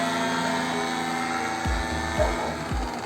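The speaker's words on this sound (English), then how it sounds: "Only the motorized trapeze plane disturbs our rest." A motorized ultralight trike aircraft engine drones steadily at a distance over the Altmühl River, overlaid by a few sharp clicks or knocks in the foreground.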